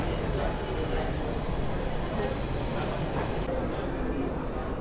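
Metro train arriving at a station in France, a loud continuous rumble and rolling roar that fills the platform, with voices mixed in underneath.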